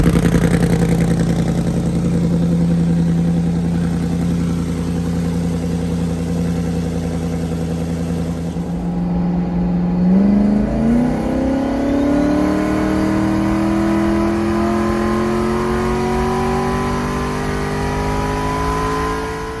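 A car with a Turbo 400 transmission idles with a steady low drone, then the engine revs and climbs sharply in pitch, rising steadily as it pulls hard and loud.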